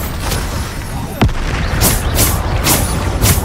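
Booming blasts of the Bombarda explosion spell in Hogwarts Legacy go off in quick succession, several sharp bursts over a dense, rumbling game soundscape.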